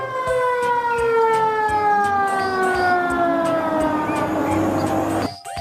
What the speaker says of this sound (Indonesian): mobil tangki pemadam kebakaran